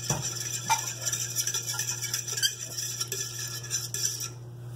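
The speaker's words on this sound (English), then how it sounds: "Give it a quick stir." Utensil clinks and scrapes against a big bowl as honey and yeast mixture is stirred, a steady close run of light taps and swishes over a low hum, no talk.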